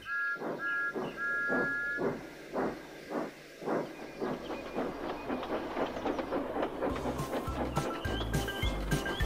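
Thomas the Tank Engine, a steam train, rumbling along the line with regular rhythmic chuffs and clattering wheels, then a busier clatter and tonal hoots or whistles toward the end, loud and close.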